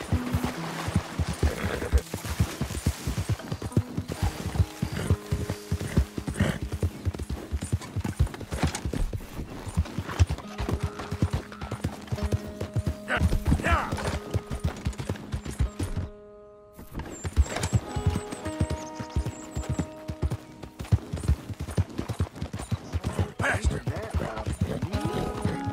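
Hooves of a galloping horse in Red Dead Redemption 2 pound in a fast, steady clip-clop rhythm with tonal game music underneath, briefly dropping out for a moment before the gallop resumes.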